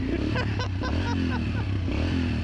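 Yamaha TT-R125 dirt bike engine, revived after sitting about ten years, idles close by with a steady low thrum and rapid small clatter throughout.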